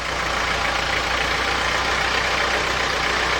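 Engine of a vintage Allwyn Nissan van with hand gear shift while reversing, a steady loud diesel drone with a dense rattling rumble, close and constant throughout.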